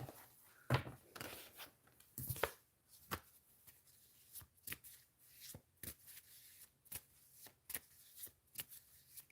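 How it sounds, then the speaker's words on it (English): Tarot cards are shuffled by hand in a quiet room, a series of soft, close riffling and tapping bursts at irregular intervals, faint overall. "All that shuffling."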